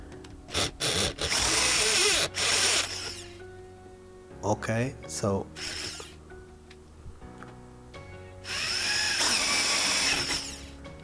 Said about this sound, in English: for these now I will be using a wood drill